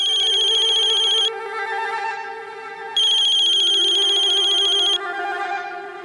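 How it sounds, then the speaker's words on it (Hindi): A telephone rings loudly and close with an electronic ringtone, two bright buzzing bursts separated by a softer melodic tone pattern, repeating in a steady cycle with no voices. "सचमुच भगवान जी का फोन आया है"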